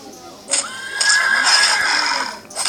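A Minecraft horse whinnies loudly in the video game, a long wavering neigh lasting nearly two seconds, with a brief higher squeal just before it and another starting at the very end.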